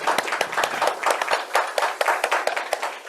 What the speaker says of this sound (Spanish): un aplauso para el profesor Méndez